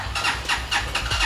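A motorcycle's electric starter cranks in repeated bursts of whirring squeal, loud and close, with engine noise building underneath, as a used sport or automatic motorbike is started.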